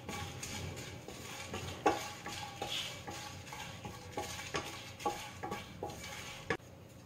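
Dried red chilies are stirred in a hot pan, a spoon scraping and clinking against the metal in irregular strokes over a faint sizzle, with a few sharper knocks.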